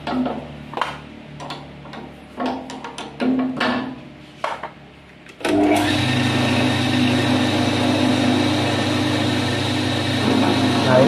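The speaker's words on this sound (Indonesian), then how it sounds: "ini kalau pakai RPM rendah dia di dagel-dugel-dagel-dug gitu. Soalnya kan ini mesinnya ya standar lah." Stock motorcycle engine idling and running at low RPM, a steady loud chugging drone that starts abruptly midway, after a stretch of speech with clicks and taps.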